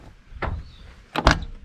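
The sliding side door of an old barn-find VW Bus Transporter being opened nearby, a scraping rattle followed by a louder metallic clunk as the slider moves along its track.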